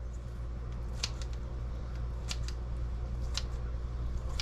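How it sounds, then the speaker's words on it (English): Kitchen scissors cut raw chicken breast into strips, making three separate crisp snips spaced about a second apart over a steady low background hum. "Break out the scissors."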